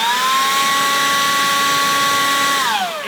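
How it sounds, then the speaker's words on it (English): DeWalt job site blower running close by, a loud steady whine and rush of air that holds constant and then drops slightly in pitch near the end, with no talk. "this used to be our job site blower. It puts out a pretty decent amount of air"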